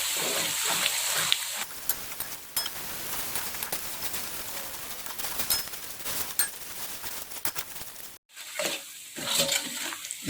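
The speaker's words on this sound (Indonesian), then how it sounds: "Kita tumis hingga mengeluarkan aroma yang wangi." Galangal, lemongrass, bay leaves and kaffir lime leaves sautéing in a pan for beef tripe curry, giving a steady close sizzle with a few clinks of a utensil and a brief break near the end.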